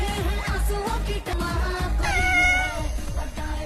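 A cat meows in a domestic scene from a Pakistani comedy drama, the cries loud and close over a busy background of music and other sound.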